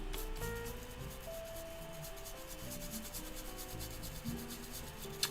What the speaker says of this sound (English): Now I can finish scrubbing this end piece down.